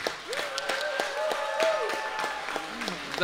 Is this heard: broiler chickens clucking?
no